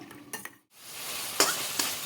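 Hilsa biryani gravy being stirred in a pan, a short scrape of a spoon, a brief pause, then a loud steady sizzle with a couple of metallic clinks.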